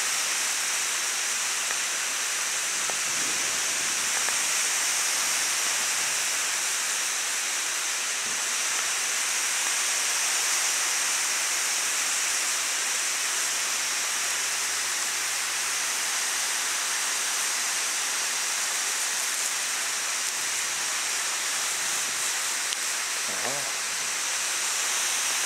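Water sprays from a hose onto an outdoor backyard ice rink as it is flooded, a steady, even broadband hiss lasting throughout with a few faint knocks and no clear talk.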